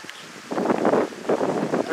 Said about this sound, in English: it's a driving 20-mile-an-hour rainstorm right now. Now we gotta face the wind.